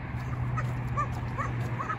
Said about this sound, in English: Apart from the dogs barking, of course.